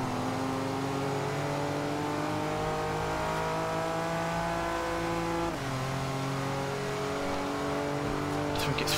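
A 1992 supercar's engine driving in the video game Forza Horizon 2. It gives a continuous loud drone whose pitch slowly climbs, drops at a shift about midway, then climbs again.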